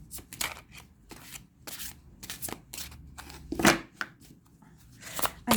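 Oracle cards shuffled by hand in repeated riffling bursts, close and crisp, with short pauses between bursts and a louder flurry near the middle.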